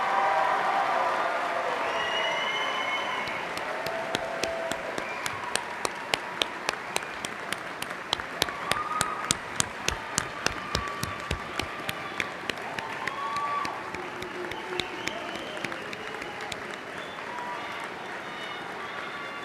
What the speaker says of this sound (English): Please join me in one more round of applause for our outstanding students.